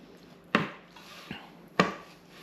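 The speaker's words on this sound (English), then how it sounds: "Give them a bit of a chop." Knife chopping Greek salad ingredients on a board: two sharp, near knocks about a second apart with a fainter tap between them, no talking.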